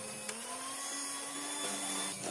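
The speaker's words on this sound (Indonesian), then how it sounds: "Kita mixer hingga mengembang dan margarin atau butternya berwarna pucat." An electric hand mixer beats margarine or butter for a marble cake batter, making a continuous close, steady whine with a faint rattle and no voices.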